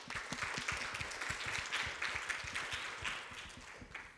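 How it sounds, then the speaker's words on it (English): An audience at a business panel discussion claps for the panelists, a steady wash of applause with audible individual claps, moderately distant and gradually tapering toward the end. "please welcome all the panelists with a thunderous applause"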